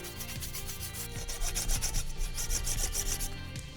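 Rust being scrubbed off the metal case of a Macintosh 512K with alcohol, heard as steady rhythmic rubbing strokes, close and fairly quiet, with no talking.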